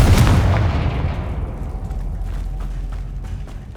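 The Confringo fire spell in Hogwarts Legacy bursts in a single loud, booming blast that rumbles and slowly fades over several seconds.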